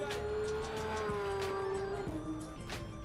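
A Porsche race car in a racing game holds a steady high engine note that dips once partway through, with light tire noise and no talk.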